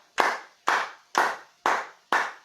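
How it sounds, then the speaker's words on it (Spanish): A church congregation claps to God in unison at an evening Bible study, with five loud, sharp claps in an even, steady rhythm and brief silence between each. "Vamos a darle un fuerte aplauso a Dios en esta noche"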